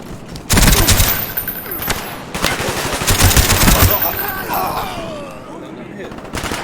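Automatic gunfire from the Call of Duty: Black Ops video game rattles in dense, loud bursts and sustained fusillades, with game voices and chatter mixed underneath throughout.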